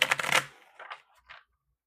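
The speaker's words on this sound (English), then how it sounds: "I done shuffled that real good." Tarot cards being shuffled make a quick burst of riffling flutter, followed by two short, softer shuffles, close by and with no talking.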